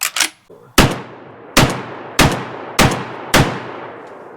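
A 12 gauge shotgun fires five loud, close blasts at a range, spaced roughly half a second to a second apart, each ringing off sharply, after a brief clatter at the start.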